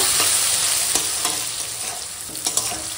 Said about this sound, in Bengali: এখন মিষ্টি কুমড়োটা ভেজে নেব